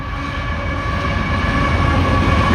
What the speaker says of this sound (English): we've got another train. This could be a loaded coal train.